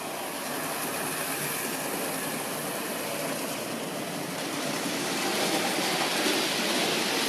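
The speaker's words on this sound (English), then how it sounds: "even that power is enough to get the model to run at a scale of 60 or 70 miles an hour" A Hornby tender-drive model freight locomotive runs fast along the track, giving a steady, continuous whirring rumble that swells slightly in the last few seconds, with no talking.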